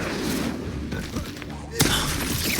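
In the Hogwarts Legacy video game, an Incendio fire spell erupts as a rough, crackling burst of noise with a sharp flare of sound near the end. Faint game chatter sits underneath.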